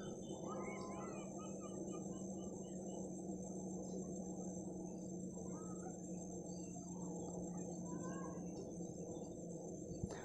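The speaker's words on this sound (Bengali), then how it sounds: "তো ঝিঝি পোকা ডাক শুনতে পাচ্ছেন" Crickets chirping at dusk, a faint, steady high-pitched trill filling the quiet evening outdoors, with an occasional distant bird call, a low background rumble and no voices.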